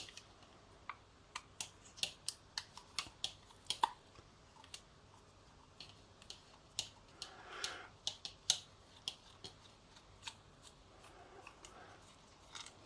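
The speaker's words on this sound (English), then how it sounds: "So we'll take these screws out first." Screws being taken out of a plastic-covered part, heard as a string of sharp, quiet clicks and ticks at irregular intervals with a brief scrape, close and faint against a hushed room.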